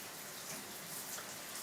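Cold water pouring steadily in a shower, a continuous close hiss and splash with no break and no voices.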